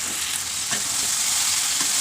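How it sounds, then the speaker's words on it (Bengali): Olive pickle with panch phoron frying in a pan while being stirred constantly, a dense, loud sizzle with a few soft scraping strokes of the spoon. "পাঁচফোড়নটি দেওয়ার পর অনবরত নেড়ে যেতে হবে।"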